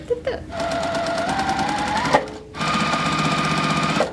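A sewing machine stitches a Halloween quilt table runner in two steady runs split by a short pause, loud and close.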